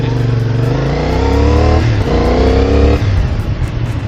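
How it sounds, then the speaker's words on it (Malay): A CFMoto 450SR motorcycle exhaust roars up close, the engine revving and climbing in pitch through a couple of gear changes while riding. "have you listened to that exhaust?"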